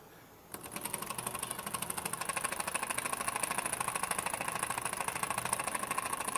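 Small horizontal homemade oscillating steam engine running on compressed air, chuffing in a fast, even rhythm of rapid puffs that starts abruptly and keeps a steady pace, close and clear.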